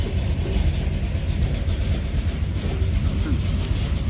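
A 1977 Chevy Camaro engine idles at around 600 RPM with a steady, low rumbling drone held at an even level throughout.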